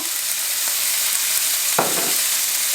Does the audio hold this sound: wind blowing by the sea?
no